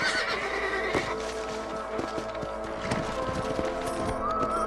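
A horse whinnies over steady hoof clip-clops and a low rumble of movement, with a game-like mix of layered ambient sound, from the video game Red Dead Redemption.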